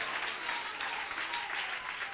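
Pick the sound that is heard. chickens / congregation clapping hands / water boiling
congregation clapping hands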